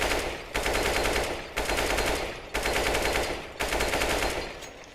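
Rifle gunfire in the video game CS:GO, four loud sustained sprays of rapid automatic shots, each about a second long, separated by brief gaps, with no talk.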